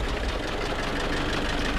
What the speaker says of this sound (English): See how the engine kind of picked up.